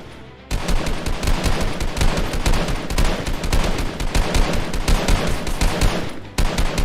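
Rapid bursts of gunfire crackle almost without pause, loud sustained automatic fire as rebels and soldiers exchange shots in a dramatized horror action story, with no speech over it.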